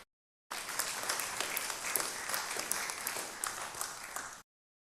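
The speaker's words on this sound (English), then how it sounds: "Give him a resounding applause" A church congregation breaks into applause during a Lent sermon, a dense steady wash of many hands clapping that starts abruptly, holds for about four seconds, and then cuts off.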